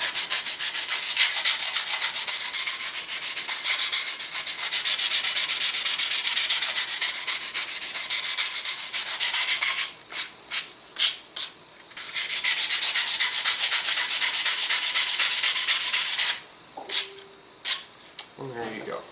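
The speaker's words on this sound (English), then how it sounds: "We're going to take sandpaper." Sandpaper rubbing a model aircraft fuselage, with long continuous scratchy strokes up close, then quick short rubs and a pause before a brief voice at the end.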